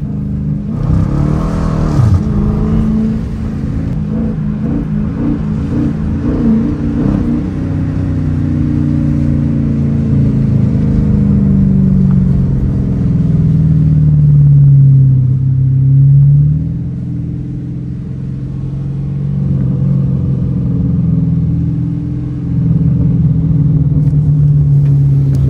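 A Dodge Challenger R/T engine revving and downshifting while driving through a snowstorm, a loud deep rumble rising and falling across repeated throttle blips, close and alone without talk.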